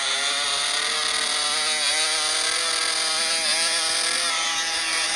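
A loud motorcycle engine in the video game GTA buzzes continuously at high revs, a harsh, steady, close roar with slight pitch wavers and no pauses.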